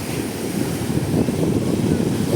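Waves rolling on the open Pacific Ocean, heard aboard a small boat, with a steady rough wash and rumble mixed with wind buffeting the microphone.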